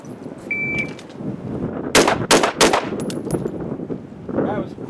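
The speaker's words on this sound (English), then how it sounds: "we'll shoot the head box with a triple here" Three sharp, loud rifle shots ring out in quick succession at a shooting range, close by, fired at a target's head box, with quieter range ambience before and after.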